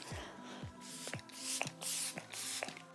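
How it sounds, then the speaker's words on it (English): Several quick hissing spritzes of a makeup setting spray bottle come in an irregular series, close up and fairly soft. "I'm gonna set everything. The stay spray, of course."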